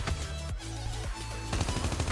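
Rapid automatic fire from the AK117 rifle in Call of Duty Mobile, continuous loud bursts with brief pauses, punchy shots layered over game background sound.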